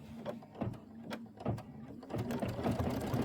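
A home embroidery machine stitches out a leaf design in green thread with a quick, rhythmic needle chatter and periodic thumps, close and fairly quiet, with no voices.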